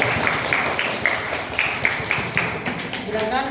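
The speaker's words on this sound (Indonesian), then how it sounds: "berikan tepuk tangan dulu untuk teman kita" Scattered clapping from a classroom of students during an Islamic education lesson on Quran recitation, with irregular hand claps over a busy background of voices and noise at moderate level.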